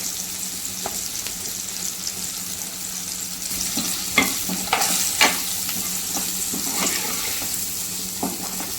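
Jackfruit seed curry with spices sautés in a pan, holding a dense steady sizzle with scattered scrapes and clicks of stirring that grow busier midway through, and no speech.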